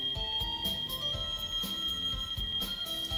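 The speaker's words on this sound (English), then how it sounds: "Sorry for the beeping." Repeated electronic beeps sound in a steady, regular rhythm, fairly quiet, with a faint constant high tone underneath and no talking, from the game Pokémon Infinite Fusion.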